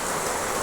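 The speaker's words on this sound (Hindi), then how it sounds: "थोड़ी सी बारिश है, आप लोग आवाज़ को थोड़ा इग्नोर कीजिएगा" Light rain falls outdoors as a steady, dense hiss of drops, fairly loud and close, filling the brief moment with no voices.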